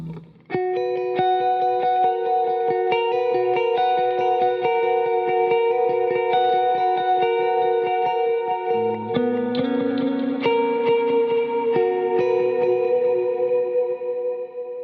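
An electric guitar plays sustained, ringing notes drenched in echoing delay and lush reverb, loud and continuous with no talking.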